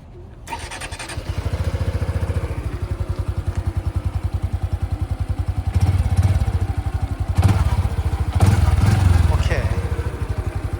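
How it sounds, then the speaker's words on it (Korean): A Honda Super Cub motorcycle engine starts up and settles into a steady, rapid putt-putt idle with a few brief blips of throttle, close by. "배기음 소리 한번 들어볼게요."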